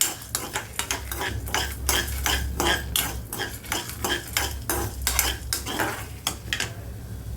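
Dried red chilies frying in oil in a pan, with repeated metal spoon scrapes and clinks in a quick, uneven rhythm over a low background sizzle, close by and with no talking.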